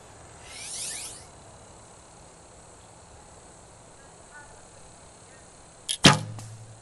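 A single arrow released from a compound-style archery bow outdoors, a sharp snap and thud near the end after quiet ambience with faint insect chirps.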